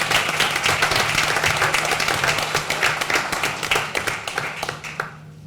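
Audience applause for boys golf team members at a high school board of education meeting, steady dense clapping that thins toward the end, with a low hum underneath.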